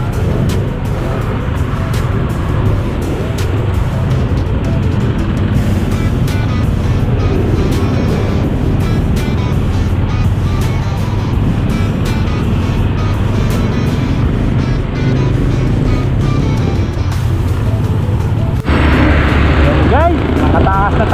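Road traffic on the C5 road, a continuous loud rumble of vehicle engines and tires close by, steady throughout with a brighter hiss near the end and talk mixed in.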